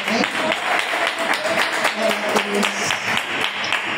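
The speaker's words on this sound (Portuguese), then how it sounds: "Aplauda o Senhor, pode se assentar." A church congregation claps in praise to the Lord, a thick, continuous patter of many hands with voices and tonal sounds mixed in, fairly loud and close.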